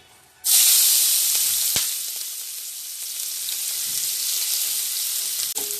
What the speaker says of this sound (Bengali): এই যে রসুন আর কাঁচা লঙ্কা কুচিয়ে রেখেছি, এইটা আগে দিয়ে দেবো